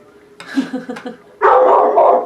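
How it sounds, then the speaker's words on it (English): A pet dog barks in a home: a short run of yips and barks, then a louder, sustained burst of barking close by, with no talk over it. "So my dog decided to make some noise while I was talking to you"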